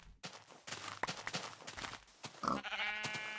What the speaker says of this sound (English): This is like every color of sheep right here.